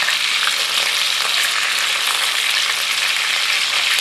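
Pork roast browning in a cast iron pan, sizzling and frying in a steady, dense hiss that holds evenly from start to finish, close up, with no voices.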